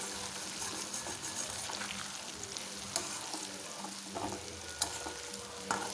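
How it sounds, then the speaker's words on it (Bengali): Spices stirred and fried with potatoes in a pan give a steady close sizzle, with scraping stir strokes and a few sharp clicks of the utensil against the pan, no voices. "খুব ভালো করে নেড়ে চেড়ে নেব। আলুগুলোর সঙ্গে একটু কষিয়ে নেব।"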